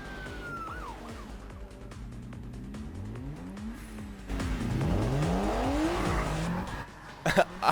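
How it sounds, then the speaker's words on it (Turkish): A remote-controlled toy Tofaş Şahin car's motor revs up and down in rising and falling whines during a race, with tire squeals and a siren-like tone, fairly loud and steady. "Abi motor sesini duyuyor musunuz?"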